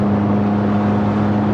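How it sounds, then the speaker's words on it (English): A car exhaust roars steadily inside a tunnel, a loud, dense, continuous engine drone with a strong low hum reverberating around it. "best place to hear the exhaust"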